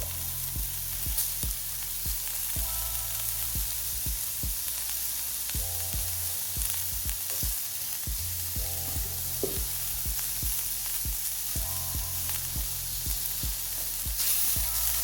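Onions and garlic hit a hot pan for a frittata with breakfast potatoes, giving a constant loud sizzle punctuated by repeated clicking taps and stirring scrapes, with no voices.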